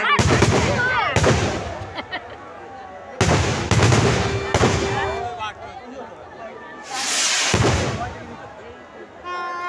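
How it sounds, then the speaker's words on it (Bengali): Fireworks bursting outside a village house in Medinipur, several loud booming cracks with long crackling tails, separated by quieter stretches where people chat and call out nearby. "আজকে বাজি দেখা হলো"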